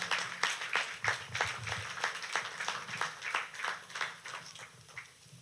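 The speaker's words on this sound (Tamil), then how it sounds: "ஒரு பலத்த கைத்தட்டலோடு வருக வருக என அன்போடு அழைக்கிறோம்" Audience applause welcoming a special guest at a business talk and debate event in Kumbakonam, a steady run of hand claps at moderate distance, fading slightly toward the end.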